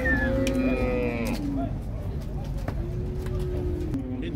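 Cattle, including cows with young calves, moo in a corral at a livestock fair in Cachoeirinha, Pernambuco; long, close lowing calls rise over crowd noise while people talk.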